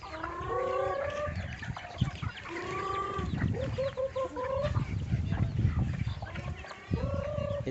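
Free-range native chickens on a farm in Cebu, a flock clucking and squawking in repeated close, lively bursts over a steady outdoor background, with one rising rooster-like call.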